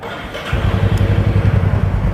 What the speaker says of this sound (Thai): ยังคงเป็นท่อเดิมครับมาฟังเสียงท่อคันนี้กันครับ